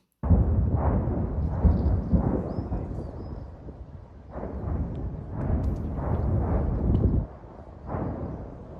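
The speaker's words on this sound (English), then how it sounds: "The sounds of explosions practically do not stop." Repeated deep, rumbling booms of explosions and artillery fire in Lysychansk roll in one after another over nearly nine seconds, heavy and distant, with short lulls between the blasts.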